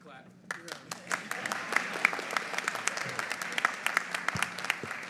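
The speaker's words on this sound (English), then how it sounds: "You can clap." Audience applause at a university commencement ceremony for the College of Business and Public Management, steady clapping from a large crowd that swells after a quiet start and holds for several seconds.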